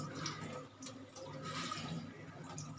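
Water poured over melinjo skins in a kitchen to rinse them, a soft, faint splashing and trickling that runs the whole length, with a few drips.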